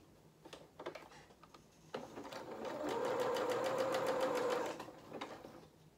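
A sewing machine, hand-cranked, stitches a seam on a small fur-trimmed festive jacket. It starts in short broken bursts, then runs as a steady close rhythmic whir before slowing and stopping.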